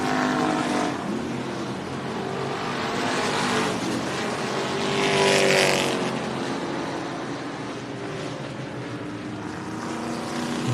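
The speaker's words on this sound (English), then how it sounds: "Top 5 cars fighting it out." Street stock race cars battle at Mohave Valley Raceway, a continuous roar of engines swelling as a pack passes, heard from trackside at moderate distance.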